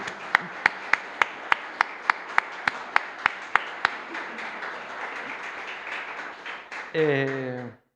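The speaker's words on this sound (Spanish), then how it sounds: "Le damos un aplauso al Señor, sí." Church congregation applause during a service, with a few sharp, evenly spaced loud claps over a softer crowd clapping that fades, followed by a brief voice near the end.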